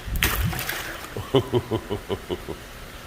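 A large cichlid splashes water while feeding in an aquarium, a loud surging splash at first, followed by a rhythmic series of about eight sloshing pulses.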